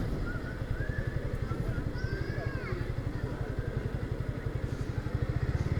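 A motorcycle is ridden into the area of Shah Amanat International Airport, its close, steady engine thrumming in quick even pulses the whole time while a voice talks over it.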